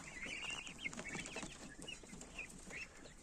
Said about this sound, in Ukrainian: Малесенькі пташенятка.